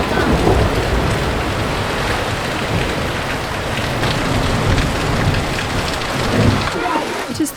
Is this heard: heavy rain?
yes